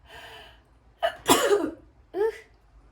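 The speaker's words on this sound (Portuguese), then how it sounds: "eu acho que eu tenho que espirrar" A sharp, breathy sneeze bursts out after a quick inhale, followed by a short gasp, close and fairly loud.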